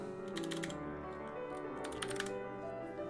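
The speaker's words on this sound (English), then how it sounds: "Hey, Luna, I'm typing something in, please." Typing on a computer keyboard in two quick bursts of clicking keys, close and crisp, with a pause between over a low room hum.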